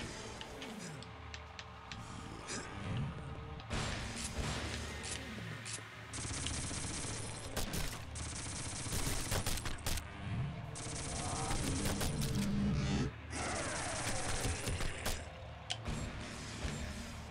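Enemy gunfire crackles during a London boss fight in Shadow Man Remastered, rapid sharp bursts layered over dense, busy game noise and a low rumble.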